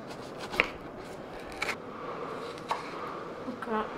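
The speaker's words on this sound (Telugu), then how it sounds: "Come let's chop it." Knife chopping vegetables on a board for paneer kebabs, a few sharp irregular cuts spaced apart, quiet and close.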